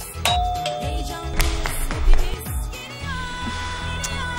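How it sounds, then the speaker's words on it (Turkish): In an animated Turkish cartoon, a doorbell rings with bright chime tones struck several times in a row, mixed with sliding cartoon sound effects and busy background music. "Şimdi duyar zili."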